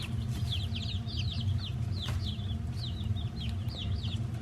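Chickens and young pullet chicks, including silkies about three weeks old, cluck and cheep repeatedly in quick bursts close by, over a steady low background rumble with no talking.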